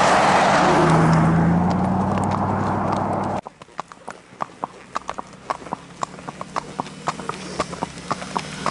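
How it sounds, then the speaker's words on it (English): A quarter horse gelding clip-clops steadily along a road, its hoofbeats close and even, after a car roars loudly past at the start. "Traffic safe whether cars are coming towards you or from behind you."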